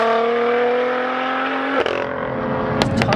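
A big single-turbo BMW M2 with about 650 bhp screams at high revs with a sharp, high-pitched engine tone, then the note drops abruptly as it shifts and carries on revving, loud and close, with no talking.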